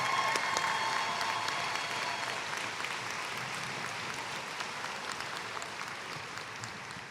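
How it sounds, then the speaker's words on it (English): Sustained audience applause at a college spring morning commencement, a dense steady wash of many hands clapping that slowly tapers off, with no talk over it. "Audience, let's give them a round of applause for all they do every day."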